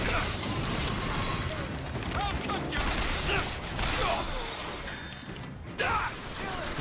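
Dense gunfire and combat noise from the shooter BioShock Infinite, with shots, impacts and mechanical clatter in a continuous busy mix, plus scattered brief bursts and a louder pop near the end.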